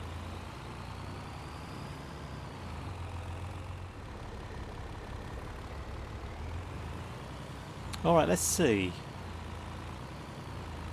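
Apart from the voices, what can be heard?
truck engine in Farming Simulator 22 video game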